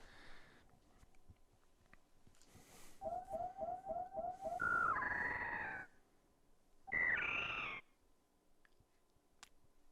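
The baby Metroid creature in Super Metroid chirps: a quick run of rapid, rising electronic chirps, then two louder warbling bursts separated by a pause, over a low droning background.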